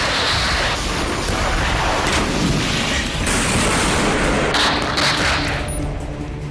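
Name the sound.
gunfire in night vision footage of Israeli ground operation in Rafah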